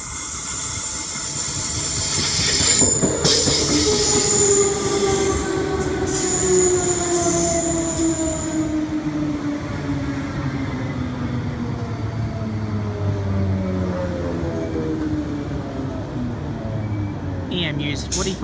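An electric multiple-unit passenger train rolls slowly into platform 4 at Albion station, Brisbane, wheels squealing and rumbling steadily for a long stretch, with voices heard faintly over the noise.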